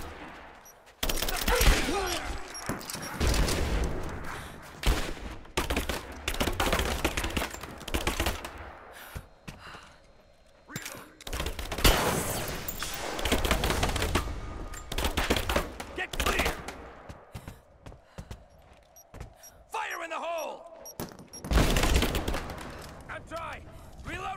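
Sustained automatic gunfire from the video game Rise of the Tomb Raider rattles through a railyard battle, dense volleys of shots in repeated bursts with brief lulls, loud and close, with character voices calling out between them.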